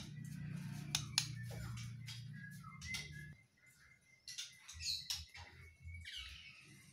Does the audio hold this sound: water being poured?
no